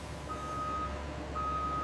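A delivery truck leaving the Red Bull factory gives two steady reversing beeps over a low engine rumble, fairly close and with no talk.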